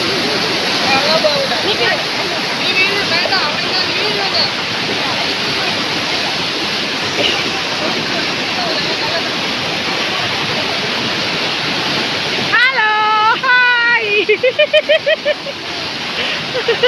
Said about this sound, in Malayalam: വെള്ളത്തിന് ഭയങ്കര സൗണ്ടാ.